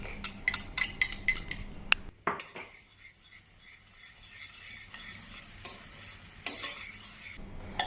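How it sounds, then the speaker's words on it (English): Onion, garlic and chopped chilies sauté in a pan, with rapid rhythmic scraping and tapping of a utensil at first, then a quieter sizzle broken by further clinks and stirring. "Next, add the chopped chilies when the garlic starts to turn aromatic."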